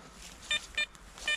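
Metal detector sounds three short electronic tone beeps over a low outdoor background, a brief tone and a pause between each, the last slightly longer.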